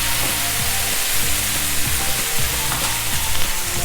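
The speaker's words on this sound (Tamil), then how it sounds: "கேரட்டை ஆட் பண்ணி போட்டு கொஞ்சம் நேரம் மெதுவான சூட்டில் அதை அவிய விடுங்க" Carrots cooking in a pan over low heat for a coconut milk vegetable curry, with a dense, continuous sizzle and frying crackle and light stirring scrapes, close up and without voices.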